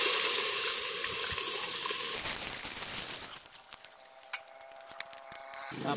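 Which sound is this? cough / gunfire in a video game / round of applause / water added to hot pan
water added to hot pan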